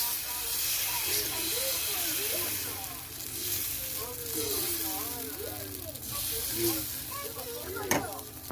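Patishapta batter sizzling on a hot tawa as it is spread around, a steady close hiss with a faint voice murmuring underneath and a sharp clink near the end.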